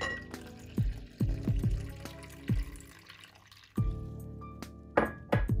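Water is poured into a well in the centre of flour in a large bowl to make mini pizza dough, heard as irregular drips, splashes and trickles that start and stop over several seconds.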